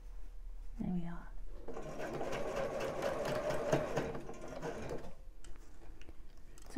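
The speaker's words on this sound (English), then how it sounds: "So I'm being careful not to stitch" A sewing machine stitches a bra band for about four seconds in a steady, close run of stitches, with brief handling sounds before and after.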